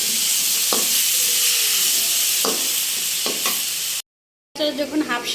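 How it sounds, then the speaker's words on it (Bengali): Malabar spinach stalks and jackfruit seeds are stirred in a frying pan, giving a steady loud sizzle with a few scraping strokes of the spoon, a brief silence, then bubbling sizzle resumes. "এবার ভালো করে একটু নাড়াচাড়া দিয়ে দিব।"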